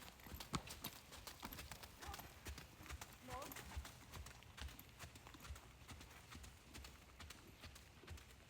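Horse trotting in a riding lesson in the rain, a steady rhythmic clip-clop of hooves running throughout with a brief whinny, while people talk over it.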